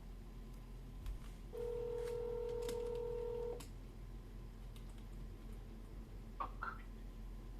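A steady electronic telephone tone sounds for about two seconds, clear and continuous, between quieter stretches of room noise, on two phones ringing at once.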